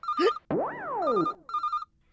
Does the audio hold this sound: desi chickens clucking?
no